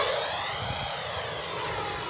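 An Arrows Avanti S 50mm electric ducted fan RC jet on 4S power flies past, a smooth whooshing whine with a gently sweeping pitch, strongest at the start then easing as it moves away.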